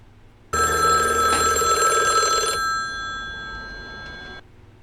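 Telephone ringing in a film: a bright, electronic bell-like ring starts abruptly, rings steadily for about two seconds, then lingers more faintly before cutting off, loud and alone.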